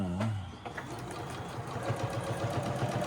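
Sewing machine running continuously up close, laying a lock stitch at the start of a seam, its steady mechanical chatter holding even throughout.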